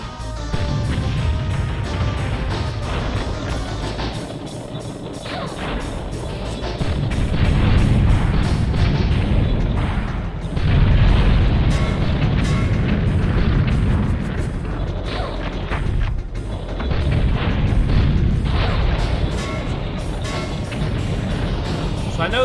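Missile explosions from the N64 game BattleTanx Global Assault boom repeatedly in loud, heavy bursts over a dense, continuous rumble of battle noise, with several crashes close together.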